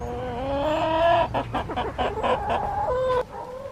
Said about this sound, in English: can your chickens really sing?